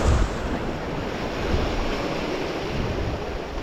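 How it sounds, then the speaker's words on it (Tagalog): Strong ocean waves wash and roar continuously close by, a broad rushing surf sound with wind buffeting the microphone, loudest at the start and otherwise steady, with no voices. "Kasi malakas ang alon eh."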